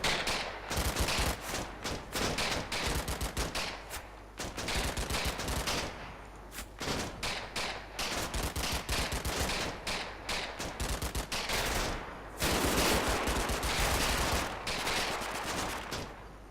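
Sustained bursts of rifle and machine-gun fire from the World War II tactical video game Combat Mission: Battle for Normandy, dense rattling volleys in repeated waves with brief pauses, loud and close.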